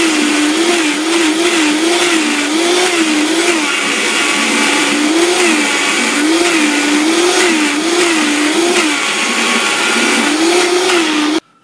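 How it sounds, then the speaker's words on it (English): A blender running loud and close while making doughnut hole batter, a steady motor roar with a wavering pitch as the load shifts, cutting off abruptly at the end. "once you're done blending"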